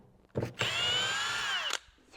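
An impact driver whirs briefly, then runs in one steady high-pitched burst of just over a second while backing screws out of a Land Cruiser mirror, close by and fairly quiet.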